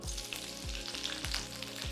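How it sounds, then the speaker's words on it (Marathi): Green chilli tempering sizzling and crackling in hot oil in a kadhai for an onion curry, a loud, close, steady frying hiss with a few faint scraping stirs and no talking. "तेल गरम होताच देऊया फोडणी एक चमचा हिरवी मिरची"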